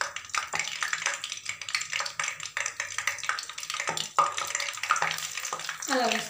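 Raw banana pieces being dipped into batter and dropped into hot oil for frying bajji, a steady bubbling sizzle with soft stirring and clinking of utensils throughout.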